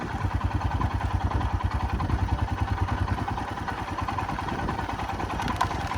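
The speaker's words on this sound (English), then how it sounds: "all of this is with the bike just idling" A Royal Enfield Himalayan motorcycle engine idles steadily, its low, rapid thumping pulse continuing without pause throughout, close and moderately loud.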